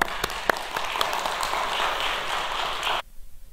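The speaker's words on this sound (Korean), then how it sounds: "이상엽 담임 목사님 나오실 때 박수로 크게 환영하시겠습니다" Church congregation applauding to welcome the senior pastor at a Sunday worship service, a steady patter of many hands at moderate distance that cuts off abruptly near the end.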